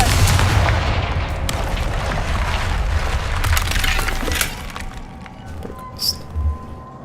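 The Confringo blasting spell in the Hogwarts Legacy video game erupts in a loud, close explosive burst with rumbling, crackling debris that tails off over several seconds, followed by a few softer thuds and a faint chime.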